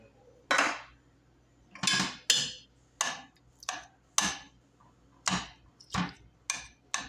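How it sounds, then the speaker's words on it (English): A metal utensil breaking up canned roast beef in a cooking pot, with about a dozen sharp scraping clanks at an uneven pace, close and fairly loud, with quiet gaps between. "I'm going to break it up in smaller pieces."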